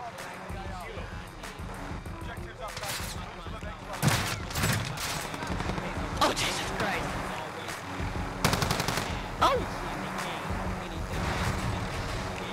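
Rapid bursts of nail gun fire in the Call of Duty Warzone video game, loud sharp volleys clustered around the middle and later moments over a busy game backdrop, with a player talking throughout.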